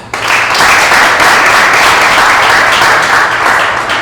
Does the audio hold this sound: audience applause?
yes